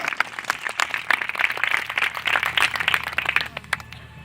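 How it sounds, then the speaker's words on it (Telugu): An audience claps loudly and continuously, a dense spread of many hands with rhythmic bursts, the applause holding steady before easing near the end. "చప్పట్ల కొండ గట్టిగా."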